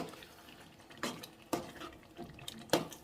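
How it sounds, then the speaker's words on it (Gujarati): Whole brinjals and potatoes being stirred in a pot of Kathiyawadi curry, with a few soft scraping knocks and wet squelches spaced out against a quiet kitchen background. "હવે તેને આપણે બરાબર હલાવી દઈશું."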